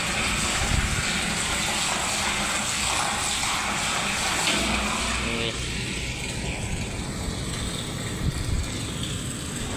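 Strong air leak hissing steadily and loudly during pumping, a continuous broadband rush that holds for the whole stretch, with faint mechanical noise underneath.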